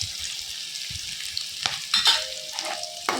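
Onion and chilli fry and get stirred in a pan for Maggi, a soft close sizzle broken by a few scraping stirs and clinks of a utensil against the pan.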